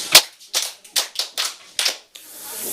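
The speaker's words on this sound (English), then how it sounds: "Clap for him." Schoolchildren at an LGEA primary school in Agidingbi, Nigeria, clap together for a pupil in a rhythmic pattern of about six sharp, loud group claps, close by and with no talking.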